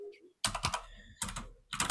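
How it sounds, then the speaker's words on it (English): Bursts of typing on an analog computer keyboard, quick clicky keystrokes in three short runs separated by pauses, quiet and close, with no voices over them. "Can hear your analog keys."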